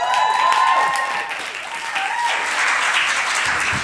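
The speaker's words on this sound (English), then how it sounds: "raise round of applause for Charlie." An audience at a student union debate event gives a short round of applause, steady clapping throughout about four seconds with some crowd noise mixed in.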